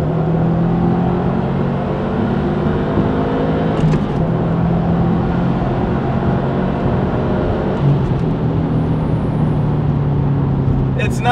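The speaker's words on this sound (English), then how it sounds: "I'll show you guys the POV of acceleration." A Subaru WRX STI accelerates on a wet road, heard from inside the car as a steady, loud engine drone with a rising tone, shifting pitch around gear changes, with a few faint clicks and no speech.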